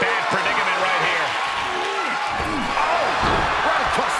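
A wrestler hits the mat from a powerbomb, a sharp body slam thudding amid a loud, cheering arena crowd, with a commentator talking over the noise.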